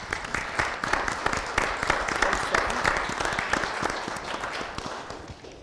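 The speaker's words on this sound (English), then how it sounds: "A round of applause," Applause at a city Common Council meeting, a dense burst of many hands clapping together that starts strong and slowly thins out over several seconds, with no voices over it.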